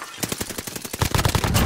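Automatic machine gun fire in Call of Duty: Modern Warfare, rapid bursts of shots that grow louder and denser toward the end, with a faint voice underneath.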